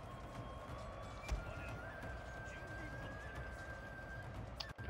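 Cavalry horses in the samurai-era strategy game Shogun 2, a neigh and hoofbeats of galloping riders over a continuous battlefield din, with a faint voice underneath.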